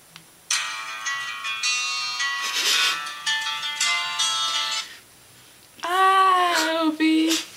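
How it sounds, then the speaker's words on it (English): Phone ringtone number 16 plays alone: a long run of bright, sustained melodic tones with short pauses between phrases, then a gap and a final burst of swooping, sliding electronic notes. "The next one, ringtone 16."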